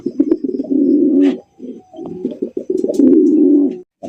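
Indian Bombay pigeons coo close by, in a run of low, throaty, rolling calls broken by brief pauses, with no voices.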